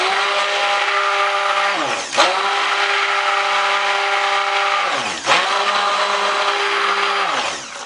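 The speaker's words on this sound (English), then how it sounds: "So I'm going to go ahead and stick blend this just a little bit more and get it even thicker" An immersion stick blender churns thick soap batter in two long, loud pulses, its motor whine dipping briefly as it stops and restarts, heard up close with no talking.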